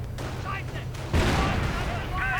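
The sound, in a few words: gunfire in a WWII strategy video game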